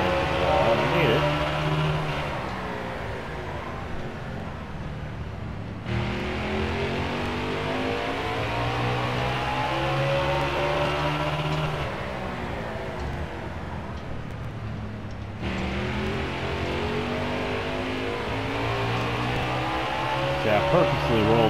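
Stock car engine in NASCAR Heat 4 at Martinsville, roaring loudly and rising in pitch through repeated accelerations with brief drops between, continuous and close, with talking over it.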